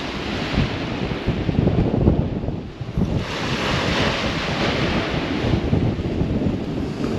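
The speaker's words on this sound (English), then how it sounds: "Wind's getting up again, guys, so I don't know what the sound's going to be like." Strong wind on a sea shore at Tunstall buffets the microphone with heavy, rumbling gusts over the steady wash of waves and surf, loud and continuous throughout with no voices.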